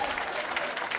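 A wrestling crowd at a Limitless Wrestling event in Yarmouth claps and cheers steadily, a dense wash of applause filling the hall.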